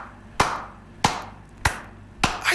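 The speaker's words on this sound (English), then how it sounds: "I clap so much for you." Four sharp hand claps ring out, evenly spaced about half a second apart, close and crisp, with a brief pause before the last one and no talking.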